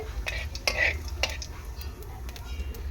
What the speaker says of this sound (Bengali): ফোড়নটা দু মিনিট একটু ফ্রাই করে নেব